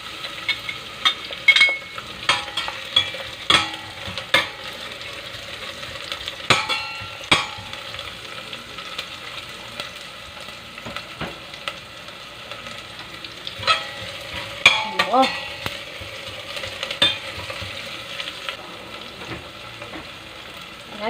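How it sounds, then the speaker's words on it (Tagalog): Onions fry in hot oil while being stirred, a continuous close sizzle broken by frequent spatula scrapes and clacks against the pan in an irregular rhythm. "Ayan, mainit na po ang ating mantika. Ilagay na po natin ang ating sibuyas."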